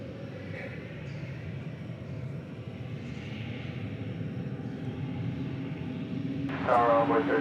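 A Spirit Airlines Airbus A320neo jet roars steadily at DFW Airport, a broad sustained engine rumble that grows slightly louder toward the end, with a radio voice briefly breaking in.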